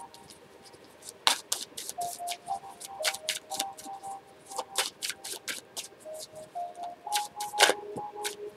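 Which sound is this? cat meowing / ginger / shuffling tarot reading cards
shuffling tarot reading cards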